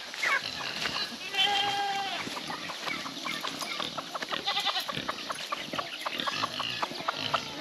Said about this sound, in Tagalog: Ayan, ito yung mga kambing natin.